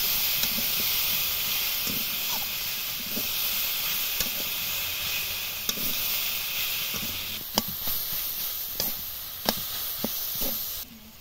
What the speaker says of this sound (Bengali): আমটা যতক্ষণ না একটু সেদ্ধ হয়ে যাচ্ছে ততক্ষণ আমি কষিয়ে নেব